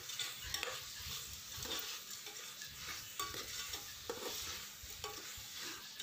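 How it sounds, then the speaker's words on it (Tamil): Onions sautéing with salt in a pan for coconut milk rice, a quiet steady sizzle with repeated stirring scrapes of a spatula, faint and close, no voices. "உப்பு சேர்த்து நல்லா வதக்கிடலாம்."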